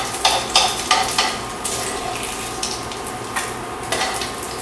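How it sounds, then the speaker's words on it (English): Crisp bacon sizzles and crackles in a frying pan as utensils clink and scrape while pieces are lifted out, a steady loud fry with several sharp metallic taps. "So we're going to just take that crisp bacon out."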